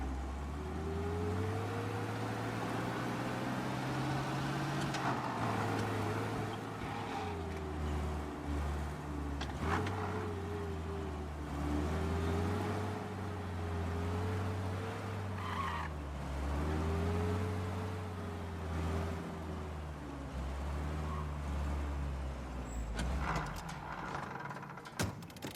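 A car in Mafia driving steadily, with the engine drone rising and falling as it shifts gears and occasional tyre noise, close and continuous, with no talk.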